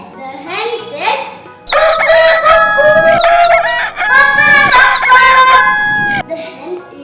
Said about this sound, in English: This is a hen. H for hen. The hen says